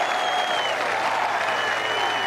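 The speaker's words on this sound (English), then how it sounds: "Listen to the applause." A golf gallery at The Open Championship at Carnoustie applauds in a steady, even wash for Tiger Woods, sounding somewhat distant, with a faint tone running over the clapping.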